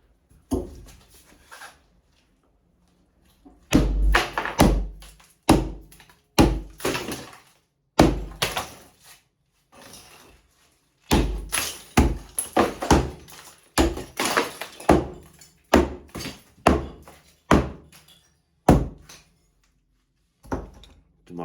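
Walls being knocked down in a Portuguese house kitchen renovation, with repeated heavy thuds and crashing impacts in irregular bursts, loud and close, separated by short pauses.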